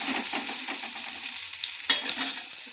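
Sliced onion frying in a pan while being stirred for mocha chingri, a steady close sizzle with scraping stir strokes and one sharper clack near the end.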